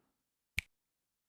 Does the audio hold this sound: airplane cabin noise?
no